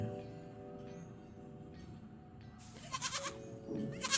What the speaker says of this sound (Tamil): ஆடு,